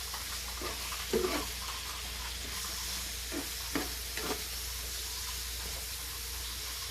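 Beef slices for bistek tagalog stirred in a hot frying pan: a steady hissing sizzle broken by several scraping, clattering stirs at uneven intervals, close and moderately loud, with no speech.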